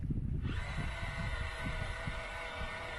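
RC Volvo L260H wheel loader model digging into wet sand outdoors, giving a continuous whining electric motor drone with gritty scraping and rumbling underneath, close and steady for the whole stretch.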